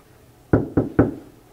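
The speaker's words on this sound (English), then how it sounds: "Knock." Three sharp knocks on a dorm room door, evenly spaced and close, each ringing out briefly before the next, with no talking.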